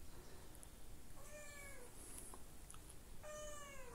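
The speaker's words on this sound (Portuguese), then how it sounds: "minha gata miando, me chamando" A pet cat meows twice, calling out, with two drawn-out faint cries from a short distance over a steady background hiss, with no talking.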